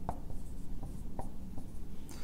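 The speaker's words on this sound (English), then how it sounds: "I'll write this one up here." Chalk or marker writing on a board in a classroom, a series of short scratchy strokes and taps with a steady room hum underneath, close and moderately loud.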